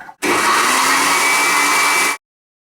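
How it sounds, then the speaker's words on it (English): Electric blender whirring steadily as it purées sauce ingredients of garlic, ginger, lime juice and salt, one loud continuous run of about two seconds that starts and stops abruptly. "Now blend all your ingredients in the blender."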